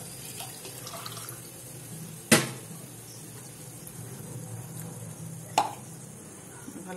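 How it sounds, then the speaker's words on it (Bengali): Three cups of water go into a pot of dissolved Amul milk while Konika bhog is being cooked. A soft, steady watery hiss is broken by two sharp knocks, with no talking. "আমি 3 কাপ জল দেব"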